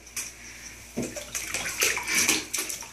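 Seven-week-old puppies swimming and paddling in water, producing a series of close, irregular splashes and sloshing bursts with no talking.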